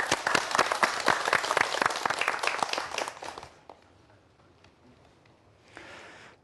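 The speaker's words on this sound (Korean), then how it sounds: "다시 한번 박수 부탁드립니다." Audience at a televised quantum physics science lecture claps loudly for about three seconds, the applause fading out into near silence with a brief rustle near the end.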